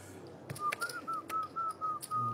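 Someone whistles a short, casual tune of several wavering notes, faint and fairly close against quiet background noise, without any talking.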